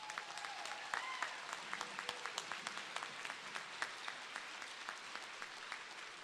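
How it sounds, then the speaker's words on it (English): Audience applause at a college commencement ceremony in December, a soft, distant and steady round of clapping from the crowd with scattered sharper claps standing out. "I think that deserves one more round of applause"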